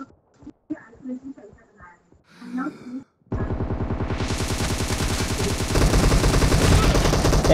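Rapid automatic gunfire in PUBG Mobile starts abruptly after a few quiet breaths and short sounds, then rattles on continuously and loudly in a dense, fast rhythm.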